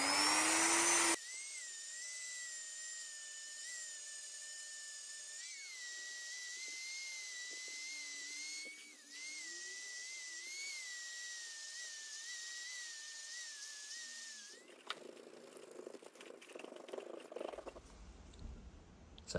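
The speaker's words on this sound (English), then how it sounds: "I'm just using a Dremel and a wool polishing mop" A Dremel fitted with a wool polishing mop buffs guitar frets, giving a steady high-pitched whine that wavers in pitch as it presses against the metal, then a rougher scraping texture before it spins down.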